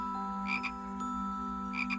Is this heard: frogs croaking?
yes